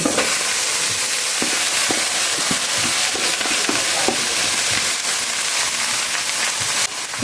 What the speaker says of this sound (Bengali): এখন ভাতগুলোকে ভালোভাবে একটু নাড়াচাড়া আগে করে নিই